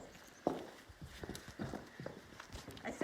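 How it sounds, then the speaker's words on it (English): Horses walking on a rural horse property, hooves clip-clopping in an uneven, unhurried rhythm at moderate distance, fairly quiet, with occasional louder hoof strikes. "some folks are on the property here riding horses right now"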